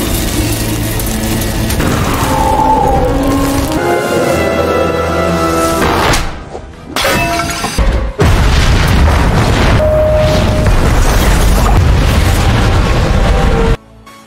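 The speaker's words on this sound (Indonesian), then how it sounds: "rumah itu keburu meledak akibat percikan api mengenai gas yang bocor" A house blows up from leaking gas in a film scene: a dense, roaring blast with booming debris and rumbling mechanical noise, loud and sustained, with a brief lull midway before the roar surges again and then cuts off.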